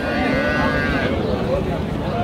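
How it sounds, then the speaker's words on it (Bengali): Young heifer and bull calves mooing at a busy Saturday cattle market in Aftabganj, Nabbabganj, Dinajpur, with a steady crowd hubbub and people talking around the calls. "এই পাশে শরীফুল ভাই, ভাই কতগুলো কিনলেন আজকে?"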